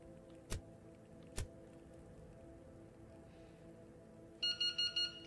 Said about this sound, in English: This beeping indicates that it has resetted.